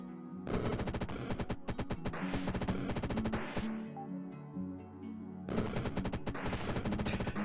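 Rapid bursts of video game gunfire rattle loudly through most of the stretch, dense automatic shots that break off into a quieter lull with low rumbling before the firing returns just as hard.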